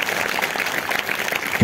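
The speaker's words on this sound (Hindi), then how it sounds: "अगर आए तो जोरदार तालियां बजाएंगे" Loud, continuous clapping from an audience at a Christian preaching service, a dense steady wash of hand claps that holds evenly throughout with no voices over it.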